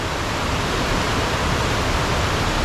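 Water thunders without a break at the tunnel waterfalls in the Vagamon hills, a loud, dense, unbroken roar heard up close with no voices over it.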